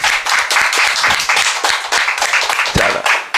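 A small group in a room claps after a Hindu naming ceremony, loud and close, with uneven, overlapping hand claps of varying strength running throughout.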